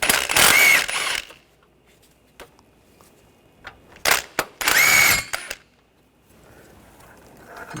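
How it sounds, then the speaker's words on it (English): A 14mm socket on a power tool spins bolts out of a Honda Pilot V6 engine during a timing belt and water pump job, two loud whirring bursts separated by scattered clicks and clanks of tools. "And now take these 2 bolts out, use a 14mm socket."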